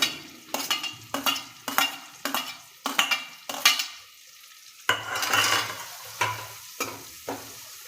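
Chopped onion goes into hot oil with curry leaves and asafoetida and is stirred in a pan, making repeated sharp scraping strokes over bursts of frying sizzle, with a brief quiet pause midway.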